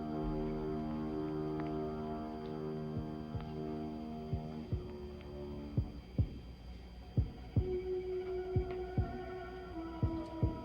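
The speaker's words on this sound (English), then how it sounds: "Heartbeat." Steady heartbeat thumping alone, starting as a low throbbing hum and resolving into clear, evenly spaced double beats that grow louder and sharper toward the end.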